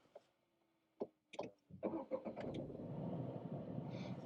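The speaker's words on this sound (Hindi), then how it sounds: "एक बार फिर से आपको गाड़ी स्टार्ट करके दिखाते हैं, ठीक है, ताकि आपको एक NVH का एक अंदाजा हो जाए." A Tata car's engine cranks with a few short clicks and bursts, catches after a moment, then settles into a steady, moderately rough idle nearby.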